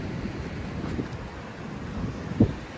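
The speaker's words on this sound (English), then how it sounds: "Oh no, there it is. I spoke too soon. Yeah, there's the wind." Steady wind buffets the microphone on a Santa Barbara beach, a continuous low rumbling roar with one sharper gust near the end; no one speaks.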